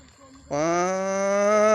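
Cattle or buffalo moo during a flood, one loud, long, steady low moo that starts abruptly and holds close to the listener.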